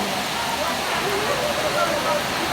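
Steady rain pours down outside a house, a dense, even hiss close by with no distinct thunder rumble standing out.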